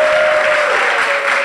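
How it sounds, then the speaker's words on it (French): Loud, dense applause from a large crowd at an outdoor live show, steady throughout the short stretch. "On va te raccompagner sous un tonnerre d'applaudissements"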